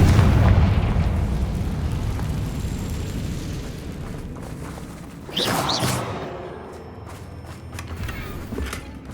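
A Confringo explosive spell goes off in the Hogwarts Legacy video game: a deep, rumbling blast with a fiery whoosh, then a sharper burst and crackle fading into quieter debris sounds, with no speech.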